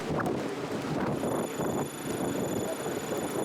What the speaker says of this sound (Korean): 이튿날 신화와 역사의 섬 델로스행 배를 탔다